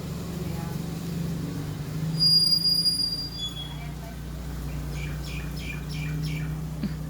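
A train rumbles steadily nearby with high metallic wheel squeals and a few chirping squeaks, under a constant low hum.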